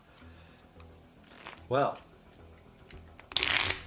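Playing cards riffled and snapped in a quick shuffle, close by, after a brief spoken word over quiet background noise.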